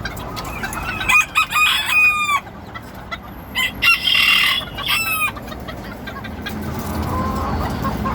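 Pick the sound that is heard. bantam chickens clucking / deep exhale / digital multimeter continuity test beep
bantam chickens clucking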